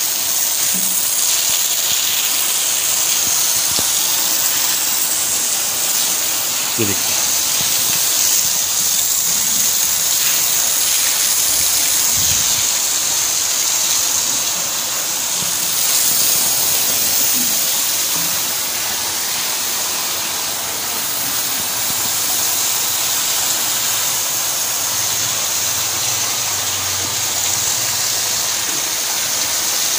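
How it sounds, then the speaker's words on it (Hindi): Water rushes steadily into the central drain of a biofloc fish tank, a constant loud broadband gush filling the whole stretch, with a voice briefly heard over it. "आप सेंट्रल ड्रेन देखिए कितनी स्पीड से पानी जो है वो इसके अंदर जा रहा है"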